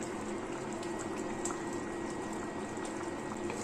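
Chicken curry boiling in a pot, a steady dense bubbling and simmering hiss that runs evenly throughout, close and continuous with no talk.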